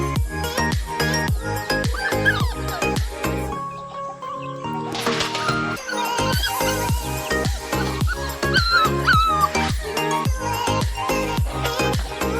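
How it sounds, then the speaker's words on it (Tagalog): Two puppies in a rural Bohol village barking, yipping and whimpering close by: rapid repeated yelps with high whiny cries in between, loud and continuous. "Yung dalawang bantay guys, dalawang tuta."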